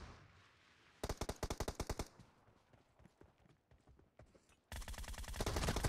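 Automatic gunfire in the mobile game PUBG Mobile during a team deathmatch, a loud rapid burst of shots, scattered single shots, then another sustained close volley.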